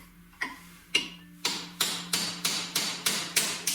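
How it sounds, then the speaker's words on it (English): Hammer striking a chisel to split an old wheel bearing race on a Honda Civic: a series of sharp metallic blows, sparse at first then falling into a steady, quickening rhythm, close and crisp. "you can hit it with a chisel"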